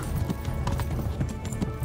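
Horse hooves galloping in the medieval game Kingdom Come: Deliverance, a quick rhythmic clip-clop pounding steadily throughout, close and fairly loud, with a faint voice briefly underneath.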